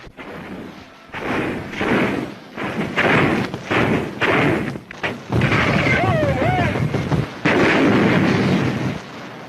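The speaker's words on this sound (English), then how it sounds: "Devastating broadside." A warship fires broadsides from fixed guns at point-blank range, a rapid run of heavy booms and blasts with dense rumbling between them, loud and continuous.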